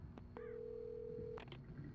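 A telephone rings in the Alan Wake video game, a steady electronic tone sounding alone against a quiet background, cut off by a few short clicks.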